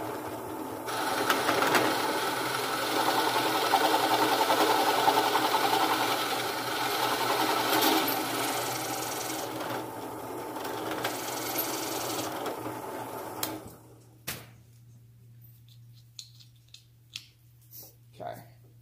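A power drill driving a 25 millimeter bit all the way through a hole, a loud steady whine for about thirteen seconds before stopping, followed by scattered knocks and a voice talking.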